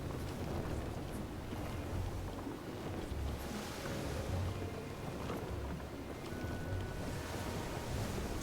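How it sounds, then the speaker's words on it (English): In the survival game Don't Starve: Shipwrecked, ocean waves make a soft, steady wash at sea, with gentle swells rising and falling and no voices over them. "and you don't want to go against the waves."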